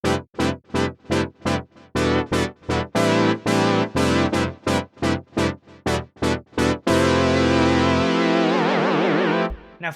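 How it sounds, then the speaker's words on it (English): Fifth brass preset on a free plug-in synth, loud stabbing brass-like notes in a rapid rhythmic run, then a long sustained chord with a wavering filter sweep toward the end, no talk. "If you want a really good fifth brass for free, this is the one."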